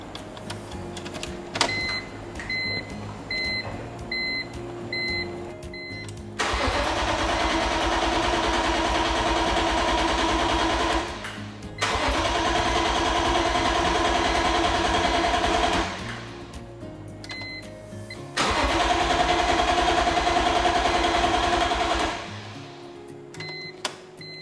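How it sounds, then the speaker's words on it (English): A BMW E46 M3 parts car being brought back to life, its engine cranked and run in three long stretches of steady mechanical droning, separated by pauses where a high electronic chime beeps, with no talking. "So let's see if we can get it to crank."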